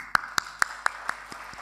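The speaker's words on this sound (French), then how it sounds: "Donc vous pouvez vous applaudir." Students clapping for themselves in a classroom setting: a handful of distinct, evenly spaced sharp claps that fade out, sparse rather than a full applause wash, with no talk over them.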